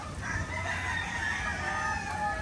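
Hens and a rooster in a backyard breeding pen, with steady clucking and a crowing call carrying through continuous farmyard bird chatter, near and fairly loud.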